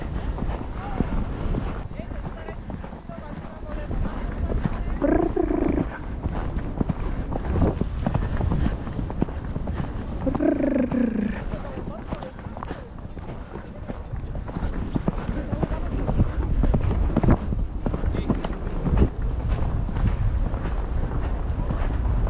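Horse hooves thud steadily while riding over a jump course with a new Prestige saddle, a rhythmic clip-clop under wind noise on a helmet camera, with a rider talking calmly throughout.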